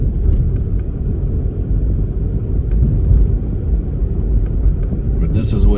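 A car drives through a small town in Japan, its steady low engine and road rumble filling the scene continuously, with a voice talking over it.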